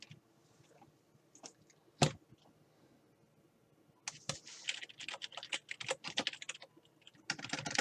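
Quiet clicks on a computer keyboard: a few isolated taps and one sharper knock, then bursts of rapid, uneven typing close to the mic with no voices.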